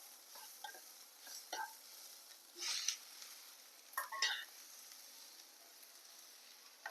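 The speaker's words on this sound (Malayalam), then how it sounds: "ഈ മധുരക്കിഴങ്ങ് അരിഞ്ഞു വെച്ചതിടാം" Chopped sweet potato tipped into onions frying with salt in a pan, then stirred, giving close scraping and stirring strokes over a low sizzle, with a few louder bursts.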